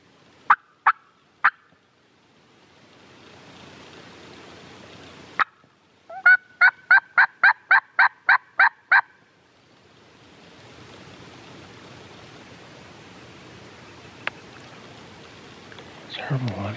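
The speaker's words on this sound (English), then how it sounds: "Seems to be a pile of turkeys in here." Wild Merriam's turkeys gobble in Washington woodland, with a few sharp calls, then a rapid string of about nine gobbles, followed by faint, echoing distant gobbling over quiet background noise.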